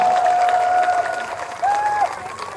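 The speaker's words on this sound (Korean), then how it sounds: "김현호 지휘자 선생님께 박수 큰 박수 한번 부탁드립니다" Big applause at a Gyeongju concert for the city's Silla ensemble members and conductor Kim Hyun-ho, a steady wash of clapping with a sustained tone sliding above it.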